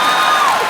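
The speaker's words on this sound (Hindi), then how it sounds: "गुरु ठोको ताली" A brief burst of studio audience applause and cheering on a comedy talk show, loud and close, with a gliding tone sliding downward over the clapping.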